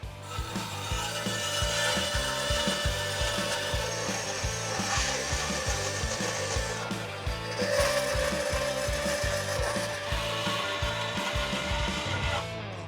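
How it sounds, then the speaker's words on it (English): A bandsaw cuts 3/16-inch steel plate for an off-road F-150 build, a continuous loud grinding rasp with a fast pulsing mechanical chatter and a thin steady whine, running unbroken throughout. "Now I'm going to run it through the bandsaw, get it all ready to go"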